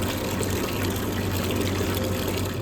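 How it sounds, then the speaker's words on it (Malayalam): Early in the morning, drinking water is drawn and fills steadily with a continuous close gushing rush, backed by a low mechanical hum like a pump, with no voices. "ഇവിടെയാണ് വെള്ളം എടുക്കുന്നത്"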